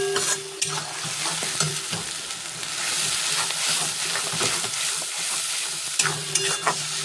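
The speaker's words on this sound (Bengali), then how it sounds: "এবার মশলাটাকে খুব করে কষাবো।" Spice paste with cumin is stir-fried hard in a pan for a boal fish curry, a continuous loud sizzle broken by repeated scraping strokes of a spatula.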